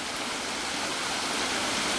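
Stream water flowing after heavy rain, a loud, steady rushing wash that fills the whole stretch without pause.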